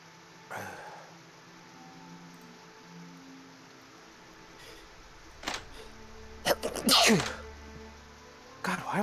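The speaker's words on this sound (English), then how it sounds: "why am I sneezing so much?" Several sneezes from a person playing the point-and-click game The Deed with friends, one early and a loud burst of sharp close sneezes later, with quiet room noise between.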